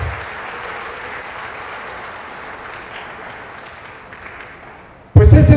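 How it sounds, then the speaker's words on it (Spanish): A political rally crowd in Iztacalco, Mexico City, applauds in tribute to Adolfo Christlieb Ibarrola, a broad, steady roar of clapping that gradually fades before a sudden loud burst at the end. "un aplauso para don Adolfo"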